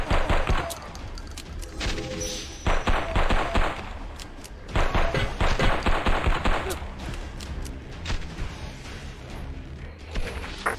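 Rapid bursts of automatic gunfire and blasts from the video game Final Force rattle out in dense, repeated volleys with short gaps, loud and continuous throughout.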